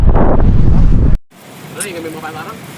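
Strong wind buffets the microphone at a rainy beach in Dingalan, then drops away to softer sea surf and breeze with faint voices in the distance.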